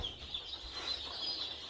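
Young chicks cheep in high, thin chirps over a faint low background hum, several birds peeping continuously and fairly quietly.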